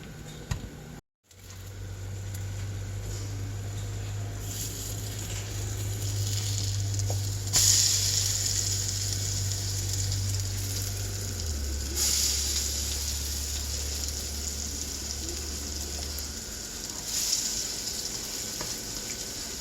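Steady, soft sizzling hiss of cornbread frying in a pan, with a low hum underneath, continuing without pause and no voices.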